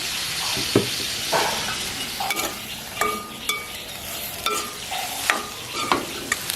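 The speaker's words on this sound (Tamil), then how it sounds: "இது நாங்கள் இப்போ வெந்தய நெருப்பில் வதக்கி கொண்டிருக்கிறோம்" Salted onions sautéing in a pan for a Jaffna-style crab curry, a steady bright sizzle broken by repeated scraping stirs of a spoon, close and fairly loud, with no one speaking.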